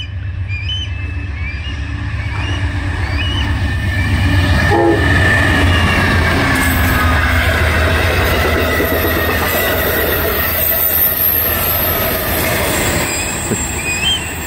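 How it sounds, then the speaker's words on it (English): An Amtrak Downeaster passenger train passes near Atkinson, New Hampshire, loud and steady, with rumbling wheels and clattering cars, squealing wheels and a horn blast partway through. "Amtrak heading to Maine."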